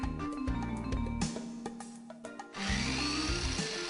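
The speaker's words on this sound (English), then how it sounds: "Cutting with a steel cutting saw blade allows high-speed cutting not possible with a cut-off wheel." A steel cutting saw blade bites into stainless steel in close, loud, harsh bursts with a ringing metallic whine, briefly easing in the middle before cutting hard again.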